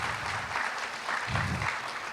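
Scattered clapping from a conference audience, steady and moderately distant, with no voices over it.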